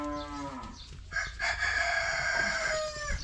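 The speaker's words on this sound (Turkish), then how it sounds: "Sana da merhaba horoz." A farmyard rooster crows near the microphone, one long drawn-out call that rises and wavers before trailing off, with a lowing animal heard at the start.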